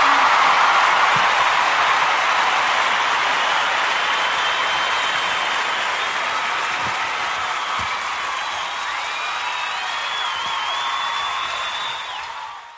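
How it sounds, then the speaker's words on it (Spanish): A church congregation applauds to the Lord during an evening service, a steady, dense wash of clapping that holds for the whole stretch and tapers slightly toward the end, with faint whoops and voices mixed in. "Vamos a darles un aplauso fuerte al Señor en esta noche."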